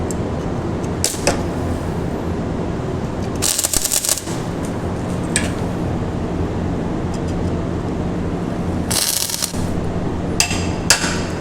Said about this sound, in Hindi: हैमर से आप इसको प्रेस कर लें।